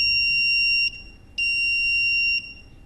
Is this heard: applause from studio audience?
no